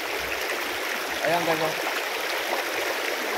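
Flowing water from a stream in a park in Saudi Arabia, home to ducks and fish, makes a continuous close rushing hiss. A person speaks briefly over it.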